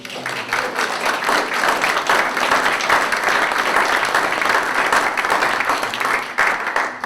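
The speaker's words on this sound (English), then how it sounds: "can we give her a resounding round of applause?" A resounding round of applause for Grace at the RBWF annual general meeting, dense clapping from a roomful of people, loud and sustained, easing slightly toward the end.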